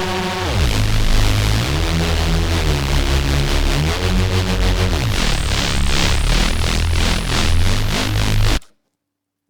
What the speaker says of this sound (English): in this tutorial we are going to learn how to make a Reese sound